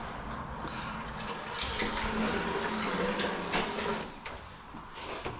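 Water gushes and splashes out of a car, a steady pouring rush that swells in the middle and then tapers off toward the end, with no voices heard over it.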